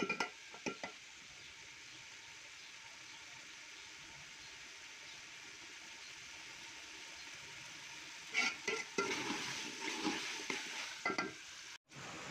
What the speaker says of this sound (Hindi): अच्छे से इसको आपने मसाले में भूनना है 10-20 मिनट तक